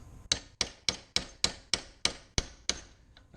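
A hammer strikes a steel chisel driven between a ball joint and control arm on a GMC Motorhome, ten sharp metallic clangs in a steady rhythm at close range, with no talk.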